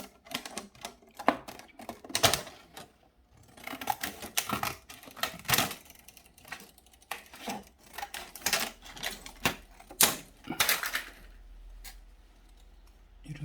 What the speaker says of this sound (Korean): 일단 이것을 가위로 오려보도록 하겠습니다